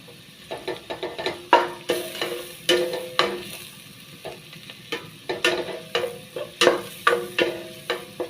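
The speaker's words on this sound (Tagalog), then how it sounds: "I-brown lang natin yung garlic. Add ko yung beef cube." Garlic browning in a pan, with a beef cube added, gives a soft sizzle under repeated scraping and tapping of a utensil against the pan in an uneven rhythm.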